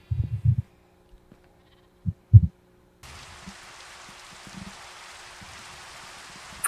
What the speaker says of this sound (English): Eventually the sheep figured out how to get to where it needed to go.